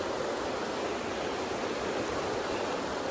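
Steady broadband rush of a flowing mountain creek in Montana, constant and fairly close with no other sounds or voices.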